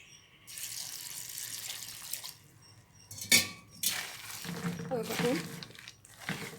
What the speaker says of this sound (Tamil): தண்ணி இன்னும் கொஞ்சம் ஊற்றணும்